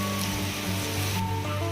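Heavy rain pouring down during a sudden downpour in Coimbatore, a dense steady wash of noise with water running along metal rails, continuous and fairly close, with a low background hum.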